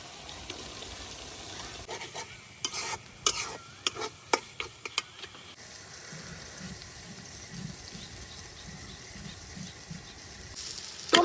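Pangas fish cooking in a pan with tomato and spices for a village-style potol dolma, a soft sizzle under a run of sharp stirring clatters, then a steadier frying hiss.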